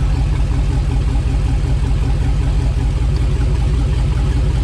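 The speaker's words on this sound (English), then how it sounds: "you can just barely hear how the engine runs different when it's plugged in versus when it's not" A car engine idling steadily, a continuous low throbbing rumble with an even pulse, close and fairly loud, no talking.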